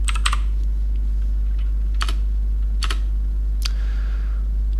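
Keystrokes on a computer keyboard, a few quick bursts of clicks separated by pauses, close and clear over a constant low electrical hum.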